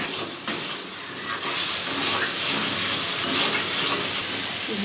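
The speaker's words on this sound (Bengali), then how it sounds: "টমেটো, লবণ, ভালো করে ভাজবো আমি মশলাটাকে।" A spice paste with tomato and salt fries in a pan, giving a constant close sizzle and hiss with a few light knocks of stirring.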